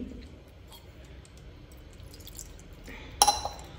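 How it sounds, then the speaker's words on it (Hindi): Water is poured from a glass into a thick egg masala curry gravy, with faint liquid movement and a brief, sharp splash near the end. "ऑलमोस्ट 3/4 ग्लास जो है ना यहाँ पे मैंने पानी डाला है इसमें।"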